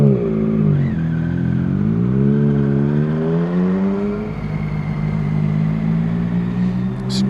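Loud motorcycle engine, an older Triumph Sprint, revving steadily close by with rising and falling pitch and a strong throaty rumble throughout.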